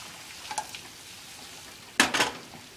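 Butter melting in a pan while being stirred: a low, quiet sizzle with a couple of faint utensil scrapes, then a louder burst of scraping and clatter near the end, close by.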